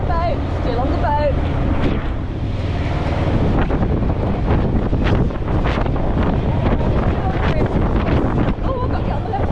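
Strong wind buffeting a microphone on the deck of a P&O ferry at sea in gale force winds, loud gusty roar with surging rushes and a brief voice near the start.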